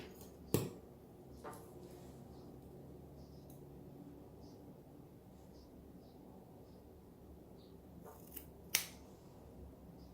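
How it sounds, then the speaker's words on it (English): Scissors trimming hair give two sharp, isolated snips, one near the start and one near the end, separated by a long stretch of quiet, faint room noise. "Maybe I'll start by trimming the length first."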